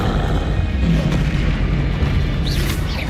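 A Confringo fire-blast spell in Hogwarts Legacy booms out as a loud, sustained, rumbling explosive roar that fills the whole moment without a break.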